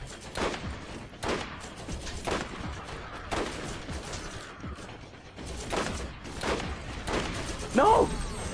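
Bursts of gunfire in the video game Borderlands, fired at the player in a string of sharp, fairly loud volleys spread across the moment, with mechanical clicks and someone talking over them.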